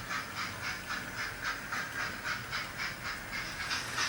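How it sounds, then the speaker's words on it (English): Two Bachmann Class 4F model locomotives run past each other on a layout, a rhythmic whirring hiss with regular clickety pulses from the wheels, steady and close, no voices. "The two locos met and passed each other anyway."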